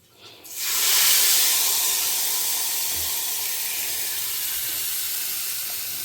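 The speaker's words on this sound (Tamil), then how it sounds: "இப்போ இதை தேங்காய் எண்ணெயில் வறுத்துட்டுருக்கேன்" Food hitting hot coconut oil, a sudden loud hiss that swells within a second and then holds as a steady, close, broadband sizzle.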